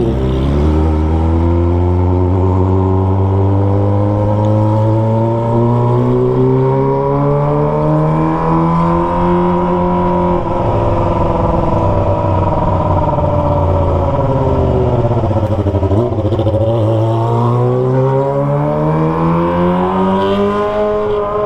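A Kawasaki ZX25R sport bike fitted with a Toce aftermarket exhaust revs hard and close, its high-pitched engine note sweeping up and down through long sustained pulls with no talking.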